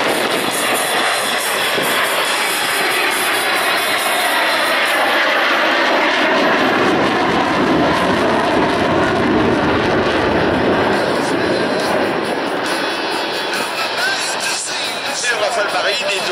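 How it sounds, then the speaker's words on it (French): Rafale Marine naval fighter jet performing at an air show in Plomodiern, France, a loud, steady broadband engine roar filling the whole stretch, with faint commentary talk beneath it. "Le Rafale Marine est doté de nouvelles technologies."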